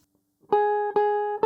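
Electric guitar playing a short jazz phrase straight, three clean, close plucked notes in quick succession, each ringing briefly before the next.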